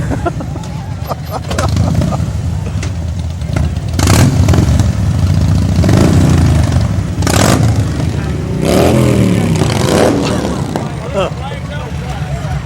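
Motorcycle and vehicle engines rev and pass by during a small-town parade, with surges of loud engine roar and clatter rising and falling amid crowd noise and talking.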